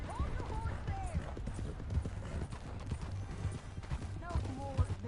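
Horse hooves clip-clopping at a steady walk in the western video game Red Dead Redemption 2, close and rhythmic with an occasional whinny, under ongoing talk.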